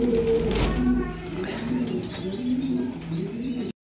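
Male racing pigeons, kept one per cage, coo in repeated low, throaty phrases close by, with a few thin chirps above them and faint background noise.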